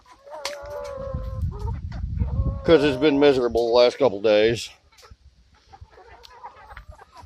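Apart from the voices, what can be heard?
baby chickens clucking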